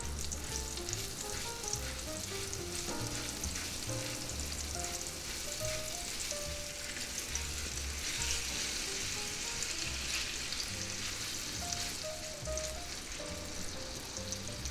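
Frozen beef cooks slowly in a pan with a steady, close crackling sizzle that continues unbroken, with occasional soft stirring and no talking.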